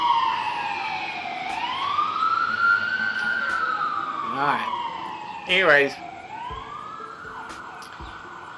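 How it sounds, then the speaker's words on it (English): A wailing siren sweeps up and down in pitch, loud and nearby, while a person speaks briefly over it. "you're going to have to excuse the sirens"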